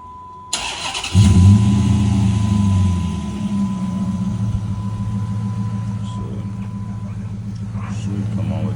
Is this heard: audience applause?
no